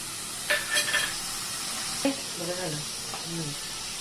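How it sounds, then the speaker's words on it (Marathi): Vegetables and tomatoes sautéing in a pan for a veg pulao, with soft sizzling and a few short stirring scrapes in quick bursts, and faint voiced sounds between them. "छान परतून घेऊया टमॅटो टाकून घेऊया"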